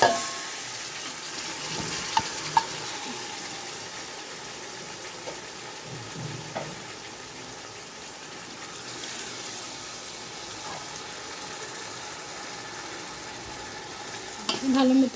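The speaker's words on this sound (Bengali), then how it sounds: "নেড়ে চেড়ে কষিয়ে নেব" Chicken and spices being stirred and fried in a pan for chicken tehari, giving a steady, close sizzle throughout with a few sharp clinks of a utensil against the pan.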